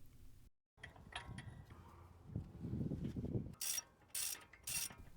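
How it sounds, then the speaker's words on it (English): Bolt tightening on the brake caliper of a Subaru STI during a brake upgrade: a close ratchet clicks and turns in short bursts, with metallic scrapes and a few sharp ringing clicks near the end. "Install your center bolt again. Get that bolt tight."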